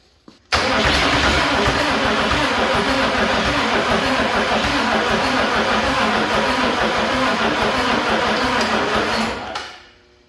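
A 1965 Chevy C30 shop truck engine is started for the first time in about fifteen years. It catches abruptly and runs loud and rough for several seconds, then dies away.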